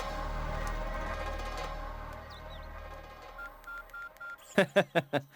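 A telephone is dialed in a dubbed Indian action film scene: a low hum and faint background give way to a run of short, even beeps, then several sharp, louder keypad tones pressed in quick succession.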